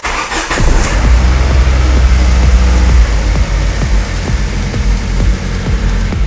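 A Ford Focus Mk1 engine cranks and fires after an ignition coil replacement, a brief start burst settling into a steady, even idle with a low rumble and rhythmic ticking, close and loud throughout.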